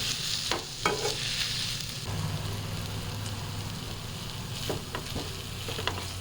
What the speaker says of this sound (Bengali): এবার সমস্ত কিছু ভালো করে মিশিয়ে নেব।